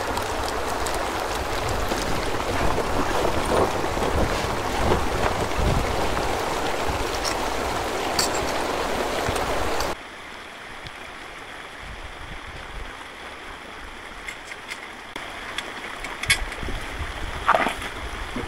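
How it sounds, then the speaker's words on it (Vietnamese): A hillside stream after rain, with water pouring steadily downhill in a continuous rushing wash that drops to a quieter, thinner flow halfway through. "giờ nước chảy trên kia xuống này"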